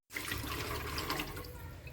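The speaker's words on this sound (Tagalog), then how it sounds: "Tapos, lagyan na lang yan ng maraming tubig." Water pours into a cooking pot while Abra-style pancit miki is being prepared: a steady, close, splashing stream that starts abruptly and runs for about two seconds.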